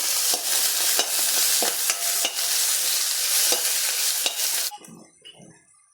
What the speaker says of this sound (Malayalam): ചെറിയുള്ളി, വെള്ളുള്ളി, ഇഞ്ചി എന്നിവ ചതച്ച് ഇട്ട് വേപ്പില എല്ലാം കൂടി ഒന്ന് വഴറ്റി